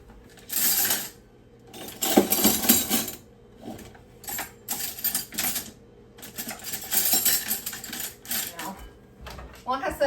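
Silverware, chopsticks and knives clatter during a home kitchen cleanup, metal utensils rattling in several loud, busy bursts with short quieter gaps between them.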